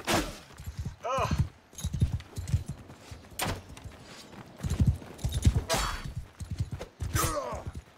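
Horse hooves clop in the medieval combat game Mount & Blade II: Bannerlord, mixed with metallic clashes and impacts during a fight, while a player talks over the action throughout.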